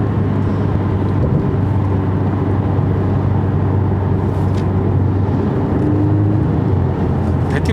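Porsche 718 Boxster S with a 2.5-litre engine cruising at about 100 km/h near 3800 rpm: a steady, loud engine drone mixed with road and wind rumble, continuous and unbroken, no voices.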